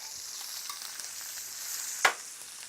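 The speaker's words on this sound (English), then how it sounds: "So we're going to flip our shrimp" Shrimp sizzle in a pan as they are flipped, with a faint steady hiss and one sharp clack partway through.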